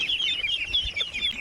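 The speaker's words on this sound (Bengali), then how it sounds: "এখানে দেখেন আমার হাঁসের বাচ্চাগুলো খাওয়ার জন্য অপেক্ষা করছে" A group of ducklings waiting for feed peep in a continuous, high-pitched chorus, loud and close, with a few soft low thumps underneath.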